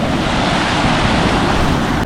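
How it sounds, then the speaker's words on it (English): Heavy waves crash and churn at Nusa Penida as a loud, continuous roar of surf, mixed with buffeting wind on the microphone and no voices. "Oh, the waves are absolutely mental, look!"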